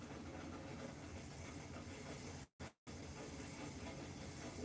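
A quiet steam engine idles with a soft, continuous hiss of steam and low mechanical murmur, steady and fairly faint, broken once by a brief near-silent gap before resuming.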